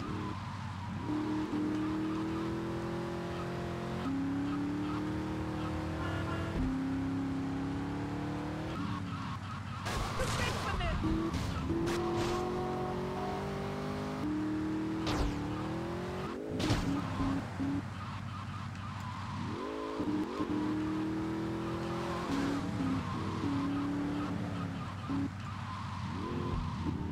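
Car driving in GTA: Vice City, a steady engine drone with rising and falling revs throughout, with game music and occasional sharp crashes or bumps. Someone talks over it at times.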